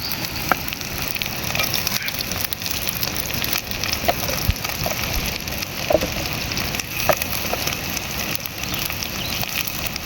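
Dried goat meat pieces dropped into hot oil with fried onions for an Odisha-style curry, crackling and sizzling steadily with scattered pops close by.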